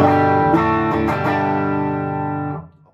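A Fender Noventa Telecaster electric guitar with its tone control turned all the way up rings out a bright, shimmering chord that is struck again at short intervals, then sustains and slowly fades before stopping abruptly after a couple of seconds.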